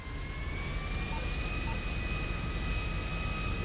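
Steady jet airliner cabin drone in a roleplay video game, a constant engine roar with a faint high whine running through it and no speech.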